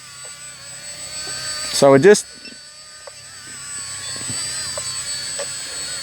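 An electric motor on a radio-controlled glider hums steadily at half throttle, a thin high whine that stays fairly faint in the background, with a brief voice and a louder bump near the start.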